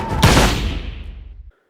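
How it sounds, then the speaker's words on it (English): A single heavy Slinger ammo shotgun blast from Monster Hunter Wilds hits hard and loud up close, then rumbles and decays over about a second before cutting to silence. "The Slinger ammo shot from Iceborne returns as a shotgun blast"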